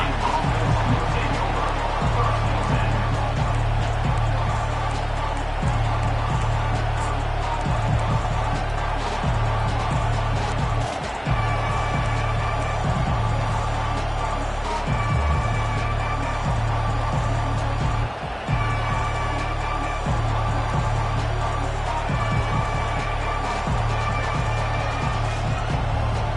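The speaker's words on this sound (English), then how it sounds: "This crowd bringing an ear-splitting welcome to their visitors." Stadium crowd roaring at a college football game, a dense, loud, continuous wall of cheering that barely dips, with a commentator's voice talking over it.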